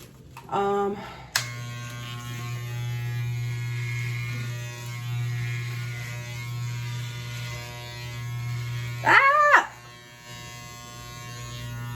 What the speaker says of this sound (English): I took off the thing, now I can shave my head.